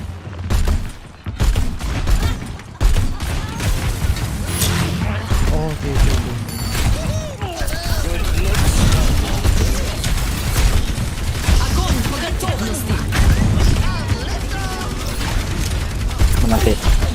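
Dense, continuous in-game combat from Overwatch, with Junkrat's grenades going off amid rapid booming bursts and gunfire-like clatter throughout, loud and sustained, while players talk over the action.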